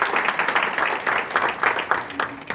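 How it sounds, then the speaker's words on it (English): A conference audience gives the pilots a full round of steady, many-handed applause that fills the room, with a faint voice underneath. "We give them a round of applause."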